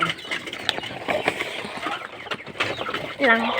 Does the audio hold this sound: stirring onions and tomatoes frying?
no